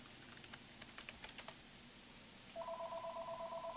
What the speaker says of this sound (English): Oh God, my phone's ringing.